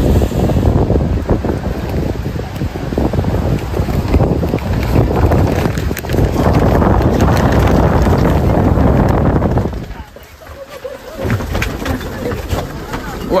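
Strong cold wind gusting on a street in Seoul, South Korea, a loud roaring buffet against the microphone that briefly drops before picking up again, with a voice talking underneath.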